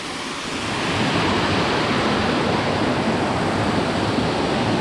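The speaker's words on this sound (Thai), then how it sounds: "น้ำตกยอดน้ำนี่แหละครับ" Yod Nam waterfall in Nakhon Si Thammarat, Thailand pours with a dense, steady roar that swells in over the first second and then holds loud and continuous, with no talk.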